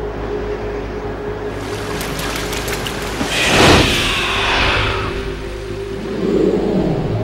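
A boat in the video game Metal Gear Solid 2 runs on water, a steady engine drone with wash and splashing that surges into a loud rushing swell midway and keeps churning.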